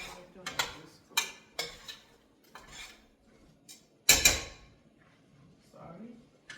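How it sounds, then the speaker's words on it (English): A cooking pan is struck over and over with a utensil while meat cooks, giving scattered, bright metallic clanks of uneven spacing and one loud bang near the end, with a voice faintly under them. "Sorry, I just have a habit of hitting my pan."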